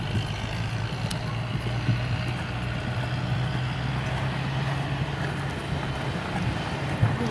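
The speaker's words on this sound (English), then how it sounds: "Lengthen the stride at the canter." Horse hoofbeats at a canter during a flat equitation session, a steady rolling rhythm of muffled thuds on an arena surface that continues without break, mid-distance under faint background noise.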